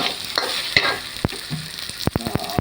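Fresh egg being stir-fried in a hot pan, a steady close sizzle broken by sharp scraping and tapping clicks of the utensil against the pan.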